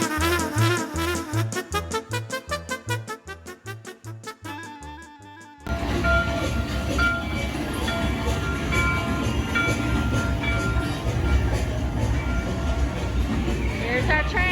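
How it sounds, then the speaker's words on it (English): The Mickey & Minnie's Runaway Railway ride train at Disney's Hollywood Studios rolls in with a steady rumble and mechanical clatter, preceded by a few seconds of rhythmic music. "Here's our train."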